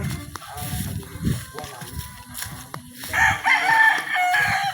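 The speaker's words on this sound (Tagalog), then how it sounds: "Ayan puro manok" Roosters crow with rising calls, loudest near the end, while chickens cluck in the background and a person talks briefly.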